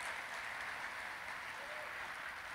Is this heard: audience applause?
yes